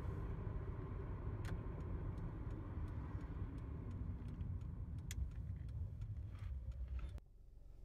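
A car engine idles steadily in a stopped traffic jam, a continuous low rumble with faint ticks heard from inside the vehicle, then cut off near the end as the engine is switched off.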